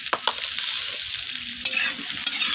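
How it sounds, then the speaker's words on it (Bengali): Potatoes and vegetable stalks fry with turmeric, chilli and cumin powder in a pan, a loud steady sizzle with a few scraping stirs of a spatula at the start, close up and without speech. "মশলা এইভাবে নাড়াচাড়া করে আমি আলু আর ডাঁটার সাথে কষিয়ে নিচ্ছি।"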